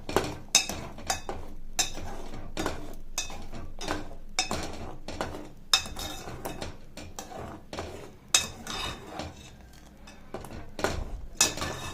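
A spoon stirring aval payasam with sugar, milkmaid and cardamom in a metal pot, sharp scraping clinks coming in an uneven rhythm, close and fairly loud, with no talking.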